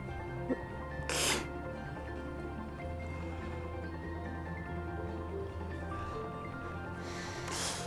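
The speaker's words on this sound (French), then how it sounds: "il y a le chat qui a vu mon trépied qui est accroché sur une branche d'arbre et il est en train de le renifler" A cat sniffs at a tripod hanging from a tree branch outdoors, with two short, sharp snorting puffs close to the microphone over a low steady background hum.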